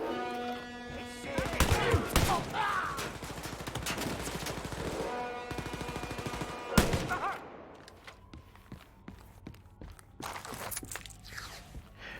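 Shotgun fire in Wolfenstein Youngblood: several loud, punchy blasts spaced a few seconds apart, each with a short boomy tail, among game music and shuffling footsteps.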